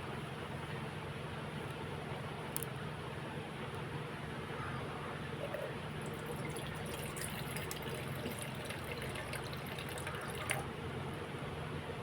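Distilled water poured into a container on a scale for charcoal soap makes a faint, continuous trickling splash under a steady low background hum.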